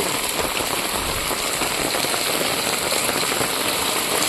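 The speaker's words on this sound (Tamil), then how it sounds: "விட்டு விட்டு மழை பெய்யுது" Rain falls on a village stream in Tirunelveli district, a steady close hiss of drops and splashing water, with a faint engine idling somewhere underneath.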